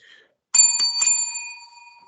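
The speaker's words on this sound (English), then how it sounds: "there's the bell, so you know what that means" A single bright bell strike marking the end of a wrestling podcast, ringing clearly and close, with a couple of quick rattles right after the hit before the metallic tone decays.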